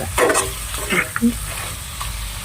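Coriander, fenugreek powder and cinnamon being stirred into a pan for a village-style chicken curry, with close scraping and stirring strokes over a steady low sizzle, no talking.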